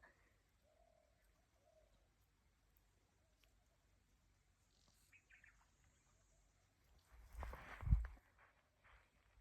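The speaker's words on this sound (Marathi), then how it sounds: "पक्ष्यांचा आणि हवेचा आवाज बघा कसा येते." A few faint, sparse bird calls sound in a quiet village farm setting, followed by a brief, louder rustling thump.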